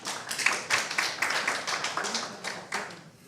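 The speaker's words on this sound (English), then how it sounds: "applause for them, please." Scattered hand clapping from a conference audience welcoming two Google security speakers at a talk, a sparse run of distinct claps over a few seconds rather than a full roar.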